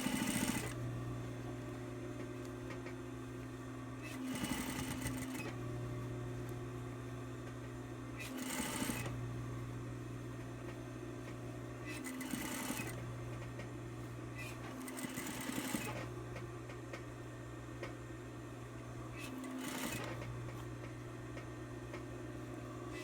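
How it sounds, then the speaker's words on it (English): A sewing machine stitching over flat fabric panels of a five-panel cap, running in steady whirring bursts of several seconds each with short pauses between, close and continuous, with a low hum underneath. "just making sure that all these pieces are all nice and flat as I sew over them"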